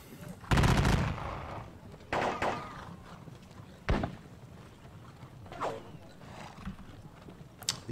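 Gunfire in a Napoleonic battle video game, several booming volleys of musket or cannon fire spaced a few seconds apart, the first loudest, each with a rumbling tail, alongside horse and cavalry noises.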